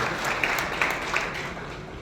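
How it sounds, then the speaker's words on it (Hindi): Audience at a public event in Bikaner, Rajasthan, applauds in welcome of Chief Minister Bhajanlal, a steady wash of clapping over two seconds with a few louder bursts, no voices on top. "जोरदार ताली बजा के स्वागत करें भजनलाल"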